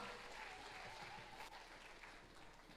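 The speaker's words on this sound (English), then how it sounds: "give the Fungi Band one last big round of applause" Steady, dense applause from an audience for the Fungi Band at a school spring concert fills the room, continuous and fairly even throughout, heard from within the crowd.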